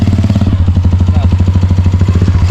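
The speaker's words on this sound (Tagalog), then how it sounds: "At si Kuagatcho flat yung motor niya. Sa unahan. Running flat oh." Motorcycle riding on a flat front tire, a loud close engine with a strong low drone and a fast regular thumping pulse as the deflated tire rolls, steady and unbroken.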